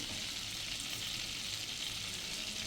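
Mustard seeds crackle and fry in hot melted butter with a steady, dense sizzle that holds evenly and close throughout, no voices present.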